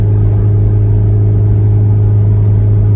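A 2001 JDM Mazda Bongo van, a tall, heavy van of about 110 horsepower, accelerates slightly downhill. Its engine gives a loud, steady droning rumble close by.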